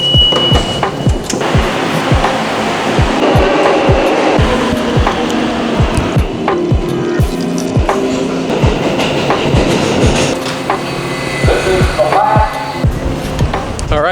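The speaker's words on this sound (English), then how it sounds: "we are going to head into the subway station now" A New York City subway train rumbles and clatters steadily, with rhythmic clicking of wheels over rail joints and a few squeals, loud and continuous throughout.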